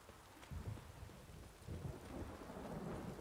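A heavy downpour hisses steadily in The Witcher 3 while deep rolls of thunder rumble in two or three swells, loud and close, with no voices.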